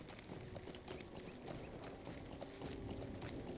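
Horse hooves clip-clop at a steady gallop in the fantasy game LOTRO, a quiet rhythmic patter of hoofbeats under wind-like ambient noise, with a few short bird chirps partway through.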